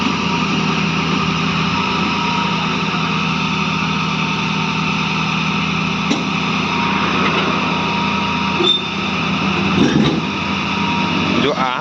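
A loading machine's engine runs in a steady, loud drone while a Tata truck is being loaded, with brief clanks and voices heard over it.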